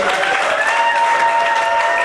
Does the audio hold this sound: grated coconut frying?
no